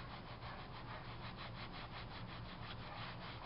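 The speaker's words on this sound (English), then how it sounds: "rub it on here. This cleans off all the tiles and then it smooths out the rest of the grout" Grout is rubbed off a mosaic tile piece in quick, even back-and-forth strokes, a soft gritty scraping rhythm heard close and quiet with no talking.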